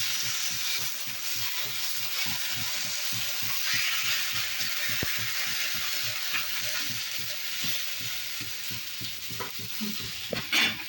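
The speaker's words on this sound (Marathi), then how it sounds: "तव्यावर तेल सोडून घ्यायचं" Oil sizzles on a hot tawa griddle while rice kondule are prepared, a steady close frying hiss running the whole time with soft rhythmic stirring or scraping underneath and a few sharper crackles near the end.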